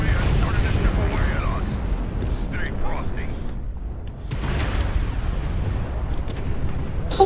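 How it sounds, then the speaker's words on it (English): Artillery strike explosions booming in the video game MechWarrior Online, a dense run of heavy blasts and rumbling impacts with a brief lull in the middle, with a voice talking over parts of it. "Artillery strike online."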